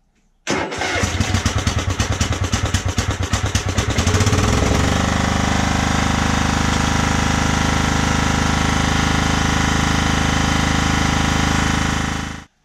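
A Craftsman LT1000 lawn tractor engine cranks with rapid chugging for a few seconds, catches and then runs at a loud, steady roar close by before shutting off abruptly, with no talk.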